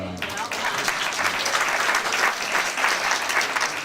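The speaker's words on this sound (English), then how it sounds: "stop clapping. You're supposed to clap when I'm done." Sustained applause from a seminar audience in Israel fills the room, dense and steady throughout, with a voice briefly audible at the start.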